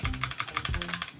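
Fast, clicky keystrokes on a HyperX Alloy RGB mechanical keyboard at a gaming desk, a steady run of about a dozen sharp taps in just over a second, close and moderately quiet with no talking.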